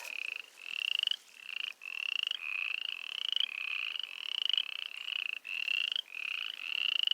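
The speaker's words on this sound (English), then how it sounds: "I must have disturbed some frogs." Frogs or toads croak in a steady chorus of repeated, evenly spaced calls, close and clear, with brief gaps between phrases and no voices.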